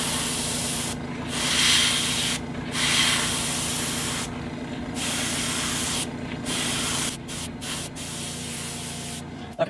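An airbrush sprays paint onto the forehead of a haunt mask, giving a steady close hiss broken by several short pauses as the trigger is released.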